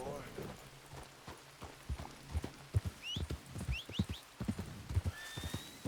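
A horse in Red Dead Redemption 2 gallops toward the player, hooves clip-clopping in an uneven rhythm that grows louder and closer, with a whinny and a couple of high whistle-like tones, and a voice talks quietly underneath.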